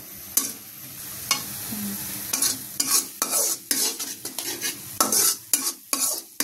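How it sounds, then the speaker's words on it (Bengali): Onions stir-frying in a pan, loud repeated scraping strokes of a spatula in an uneven rhythm over a continuous sizzle, close and clear with no speech. "তারপরে ভালো মতো কষাবো তরকারি। পেঁয়াজটা কষানো হলে শসা দিয়ে দিব।"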